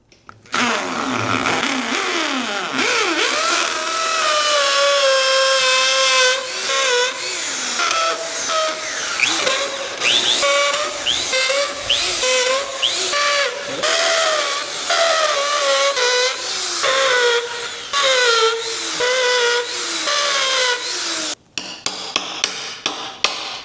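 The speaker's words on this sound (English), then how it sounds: "We're going to drill some holes for these casters." A borrowed power drill whines and bites into wood while boring holes for casters, loud and close, its pitch rising and falling in bursts, then cutting off near the end.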